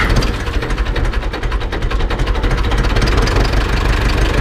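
Ursus C-360 tractor engine, an original unit just rebuilt and started, revving up and running steadily in a loud, continuous mechanical drone with a rapid firing rhythm close by, no talk over it.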